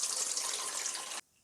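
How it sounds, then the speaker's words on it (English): Soaking water from soaked rice pours steadily through a strainer into a kitchen sink, a close, continuous hissing splash that stops abruptly near the end. "we're going to strain out all that water and we're going to keep the mix that we have"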